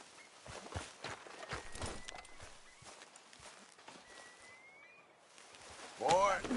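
Soft, steady hoof clip-clops of a walking horse at a distance in the video game Red Dead Redemption 2, with faint background ambience and a brief louder rustle near the end.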